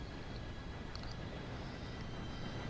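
Train rolling through the world of Red Dead Redemption 2, a steady, dense rumble of wheels and carriages that stays even and unbroken throughout, with no voices over it.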